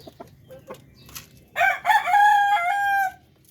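A Darag native rooster crows once, loud and close, in a long harmonic call after a few soft clucks and faint farmyard sounds.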